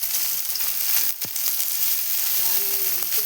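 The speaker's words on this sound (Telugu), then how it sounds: "ఆనియన్ మంచిగా ఫ్రై అవ్వాలి." Onions frying in a pan with dried red chillies, a constant soft hiss of hot oil, close and moderate in level, with a brief knock partway through and faint tonal background sounds.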